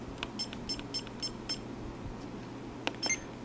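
A Sony Digital Mavica FD73 camera gives a series of short, high electronic beeps, evenly spaced in a quick run, then a pause and a few more chirps near the end, fairly quiet.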